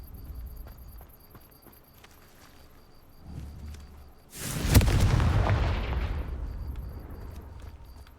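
A Confringo fire spell cast at a sconce in Hogwarts Legacy erupts as a loud whooshing fiery burst midway, tailing off into a roaring rumble after quieter game ambience.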